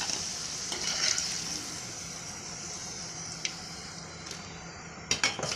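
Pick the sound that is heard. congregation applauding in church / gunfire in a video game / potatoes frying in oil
potatoes frying in oil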